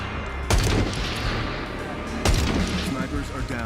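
Two loud sniper shots boom in Dying Light: The Beast, each a sharp blast with a lingering rumble, spaced well apart over constant in-game noise.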